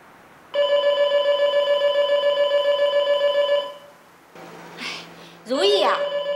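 A telephone bell rings loudly and steadily for about three seconds, a trilling electronic tone close by, then stops; a voice speaks briefly afterward over a low hum.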